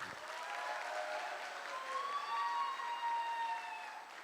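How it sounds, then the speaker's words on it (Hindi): An audience claps for its gurus at a welcome ceremony, the applause fairly faint and distant, overlaid by rising and falling whistle-like tones that drift across the clapping. "मैं चाहूँगा सबसे ज़्यादा और सबसे ज़बरदस्त तालियां हमारे गुरुओं के लिए होनी"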